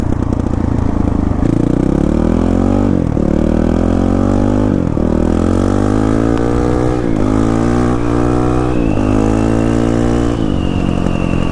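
Honda CRF450RL motorcycle with a flashed ECU, its engine revving loud and close through repeated gear pulls, each rising in pitch then dropping at the shift, with no talking.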